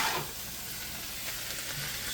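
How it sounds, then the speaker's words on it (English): A large batch of potatoes stirred in a frying pan gives a soft, steady sizzle with a couple of faint scraping sounds from the stirring, quiet and close. "Give this a good stir here. That's a lot of taters in there."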